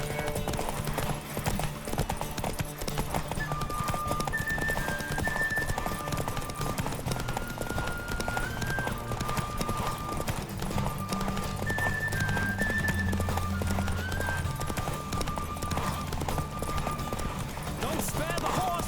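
Steady rhythmic hoofbeats of a galloping horse in The Witcher 3: Wild Hunt, with a musical score playing underneath, continuous throughout.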